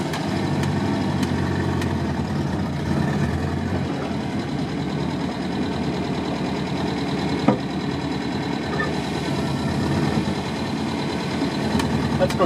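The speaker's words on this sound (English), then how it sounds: "You can hear the rust scraping off the clutch disc." A 1963 Volvo PV 544 engine runs steadily with a rough, knocking idle while a rusty clutch disc scrapes, the sound continuous and close with occasional clicks and people talking over it.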